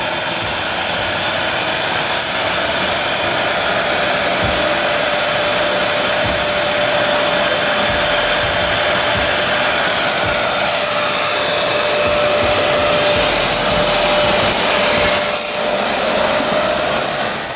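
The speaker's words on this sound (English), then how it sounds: "the walnut procedure machine is working" A walnut blasting machine roars steadily as it clears carbon build-up from the intake valves of a MINI JCW N14 engine, a loud, continuous rushing hiss with a faint whine and no talk.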